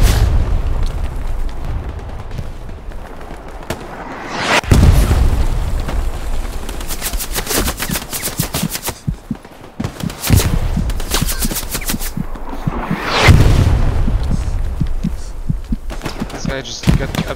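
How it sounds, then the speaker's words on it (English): Artillery barrage in the WWII shooter Hell Let Loose: repeated heavy explosions, two especially loud close blasts a few seconds apart and sharp rapid gunfire bursts in between, with a player talking over the chaos. "does anybody know if the arty is ever gonna stop?"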